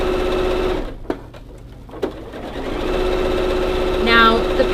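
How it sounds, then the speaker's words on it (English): Sewing machine running a steady, fast, even stitch along a skirt seam, close and moderately loud, with a couple of sharp clicks and a brief higher whir near the end. "I'm going to sew along the one side and then on the other side."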